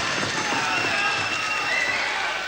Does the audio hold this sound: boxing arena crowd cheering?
yes